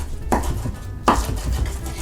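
A mezzaluna knife rocks and chops through basil and pine nuts on a board, two crisp distinct cuts with a soft scraping texture between them, close and fairly loud.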